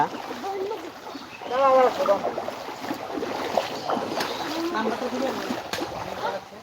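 A boat moving through village flood water, soft splashing and water sloshing against the hull under nearby voices talking and calling out.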